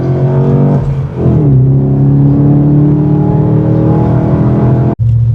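Holden VF Commodore SS Walkinshaw 315kW V8 accelerating hard up a road, a loud steady engine roar with rising harmonics through several seconds, one brief dip partway and a sharp cut near the end.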